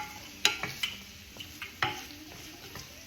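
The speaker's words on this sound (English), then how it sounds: "Mix that up. I'm going to let that cook for a little bit." A spoon stirs carrots and Brussels sprouts in olive oil in a pan, giving several sharp metallic scrapes and clinks over a faint sizzle.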